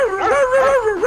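A dog howls in a single sustained, wavering tone that rises and falls, loud and close, with no other sounds around it.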